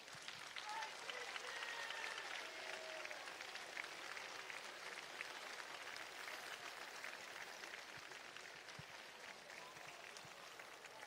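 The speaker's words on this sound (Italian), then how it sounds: "L'applauso di Samugheo." A carnival crowd in Samugheo, Sardinia, applauding steadily and evenly at moderate distance for the full stretch, with scattered voices mixed into the clapping.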